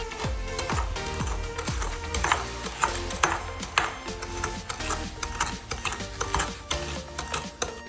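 A utensil beats pancake batter with egg and sugar in a bowl, making quick rhythmic clinks and scrapes. The sound is close and steady, with a faint hum underneath.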